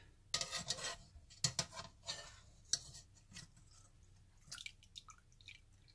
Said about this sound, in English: So you want to strain all of your peels out of the liquid.